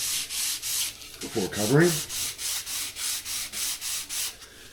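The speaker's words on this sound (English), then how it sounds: "they recommend sanding with at least 400 grit" Rhythmic back-and-forth scraping of 400-grit sandpaper on a model plane's tail, about a dozen even strokes, with a brief spoken phrase partway through.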